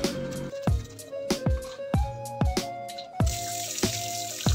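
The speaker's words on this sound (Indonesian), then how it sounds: "Lanjut aku siram-siram lagi buat bersihin si Luxusnya itu ya, biar bersih gitu." Water splashes and drips in a bathroom being rinsed after cleaning with a bathroom cleaner, sharp pouring splashes and drips recurring every half second or so with a tap-like ringing tone, close and fairly loud.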